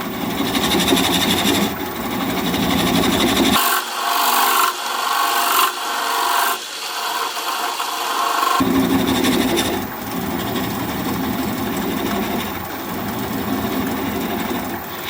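A wood lathe turns an olive wood bowl at low speed while a bowl gouge cuts it, making a continuous, close scraping and rasping that briefly shifts tone midway, with no talking.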